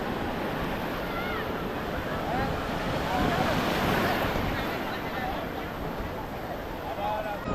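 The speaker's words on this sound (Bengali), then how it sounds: "ঢেউটা আসছে, দেখো ঢেউগুলো, দেখো পুরীর ঢেউ" Sea waves at Puri beach on the Bay of Bengal wash in as a steady, loud broadband roar, with wind buffeting the microphone and faint voices and calls rising now and then above the surf.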